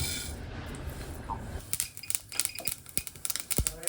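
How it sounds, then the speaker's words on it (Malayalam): Sharp, irregular pops and crackles of mustard seeds in hot oil in a pan, starting sparse and growing busier, close up with no voices. "അപ്പം കടുക് പൊട്ടി തുടങ്ങി."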